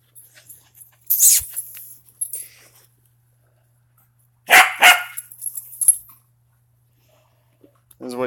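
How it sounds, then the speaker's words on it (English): Puppies bark in short, high yipping bursts, a cluster early on and a louder cluster midway, separated by quiet gaps, with faint scuffling between. "is to watch puppies run around"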